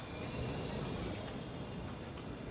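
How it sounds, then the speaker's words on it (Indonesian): Train noise at the Whoosh high-speed rail station in Padalarang, West Bandung, during a busy holiday period: a steady, fairly quiet rumble with faint wheel squeal and a thin high tone, no talk. "stasiun kereta cepat Wus di Padalarang, Kabupaten Bandung Barat dipadati penumpang yang ingin kembali ke Jakarta"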